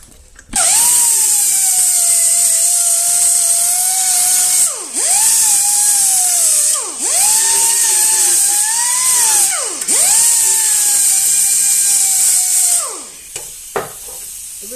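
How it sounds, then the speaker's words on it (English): A belt sander grinds a metal lawn mower body in loud, high whining passes, each dipping briefly in pitch as it bites into the workpiece, with short pauses between strokes and a faint knock near the end. "The belt sander now."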